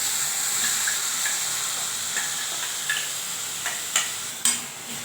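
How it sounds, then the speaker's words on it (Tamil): Onion and ground tomato sauté in a pan, a steady close sizzle with soft stirring scrapes and a few sharper pops and clinks near the end. "நல்லா வதங்கட்டும் நல்லா வதங்கிட்டு இருக்கட்டும்"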